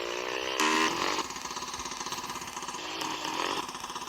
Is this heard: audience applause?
no